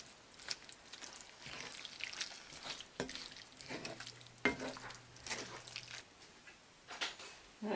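Keto sloppy joe meat mixture seasoned with chili seasoning is stirred in a pan, giving soft scraping and wet shuffling with a light sizzle, a few sharper utensil knocks, and a faint low hum partway through.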